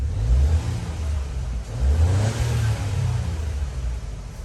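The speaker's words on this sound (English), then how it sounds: "Hit the gas right now. You can hear the turbo spinning up." A 2021 Ford EcoSport's small engine revs up under acceleration, turbo spinning up, a steady rising whir and rumble heard from inside the cabin, with no talking.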